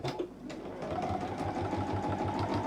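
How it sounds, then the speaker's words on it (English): A domestic sewing machine runs steadily, stitching a short back-stitched seam on a lined fabric bag with wadding, its close, even mechanical whirr and rapid needle pulse continuing throughout. "And we'll do a little back stitch so it's lovely and secure."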